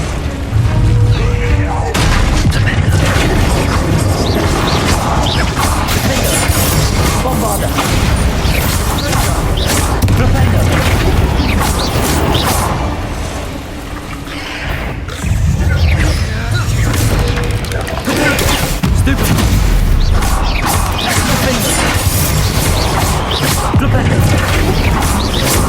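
Confringo fire spells explode in the video game Hogwarts Legacy: loud, dense booms and crashing bursts come one after another almost without pause, mixed with game music and effects, with a brief dip partway before the blasts resume.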